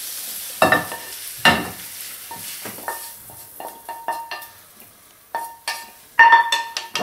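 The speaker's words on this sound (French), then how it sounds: "fin de pré-cuisson des foies" Chicken livers finish browning in a pan as part of a stuffing for a stuffed poularde, with soft sizzling under scattered stirring scrapes and sharp utensil clinks against the pan, close and moderately loud.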